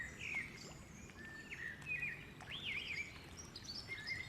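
Birds and insects in the Rocky Mountains, birds chirping and whistling at a distance over a steady, soft outdoor hiss of wind or running water.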